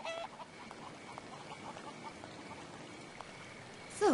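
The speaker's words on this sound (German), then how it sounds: "Und da ist unser nymphomanischer Hahn" A rooster in the video game Haunted gives a few soft, scattered clucks over a quiet background, ending with a sharper, louder squawk at the very end.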